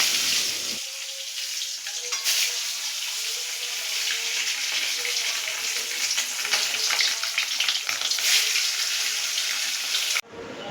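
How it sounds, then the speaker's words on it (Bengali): Boiled eggs fry in oil in a wok with a continuous close sizzle that starts abruptly and cuts off near the end, without talk. "এবার কড়াইতে তেল দিয়ে আমি ডিমগুলো আস্তে আস্তে খুব সাবধানে ভেজে নেব।"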